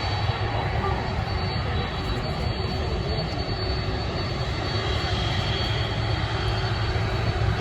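An airliner passes over at Manchester Airport, a loud, steady jet engine roar that holds without a break for several seconds, with a faint voice talking underneath.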